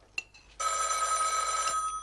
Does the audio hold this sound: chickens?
no